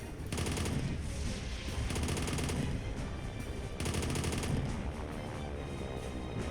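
Sustained automatic gunfire in the WW2 Bunker Simulator game, loud and dense throughout with bursts of sharper shots, a continuous fusillade with no pauses.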